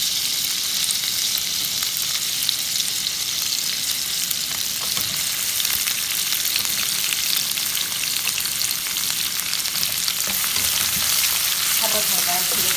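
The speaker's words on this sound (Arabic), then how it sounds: "حط هنا البصل شرايح مقطعه، بصل حبه صغيره مره" Thinly sliced small onion sizzling steadily in a pan with garlic, raisins and mustard seeds, a continuous frying hiss with occasional stirring sounds and no talk.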